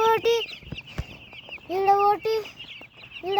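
White chickens clucking and squawking in bursts close by, several loud drawn-out calls broken by short clucks and scuffing, with a voice speaking at times between them.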